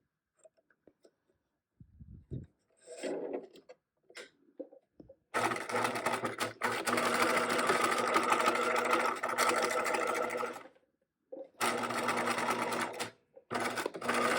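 A sewing machine stitches fabric maze walls with a fast, even mechanical whir in two long close-up bursts, separated by pauses, handling clicks and short starts during backstitching.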